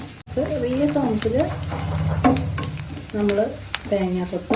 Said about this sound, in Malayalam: നമ്മൾ തേങ്ങാക്കൊത്ത് ചുമന്ന് കഴിയുമ്പോൾ ഇതിലേക്ക് അണ്ടിപ്പരിപ്പും കൂടി ഇട്ട് വറുത്ത് ചേർക്കും